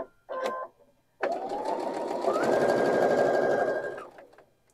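A sewing machine runs steadily for several seconds while stitching across a bulky seam on a pinwheel quilt block, preceded by a brief separate mechanical burst; the motor hum rises slightly in pitch partway through and stops cleanly.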